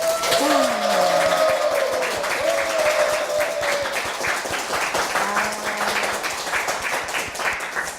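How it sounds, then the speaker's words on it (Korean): An audience of citizens at a televised talk show applauds, steady clapping spread across the hall while a voice talks over it. "객석에서 지금 많은 분들이 시민들께서 박수 한으로 함께 해주고 계시는데요"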